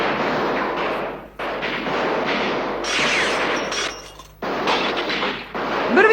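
Rapid cartoon gunfire sprays through a Wild West hotel saloon, loud dense bursts of shots with brief pauses between volleys and no talk over them.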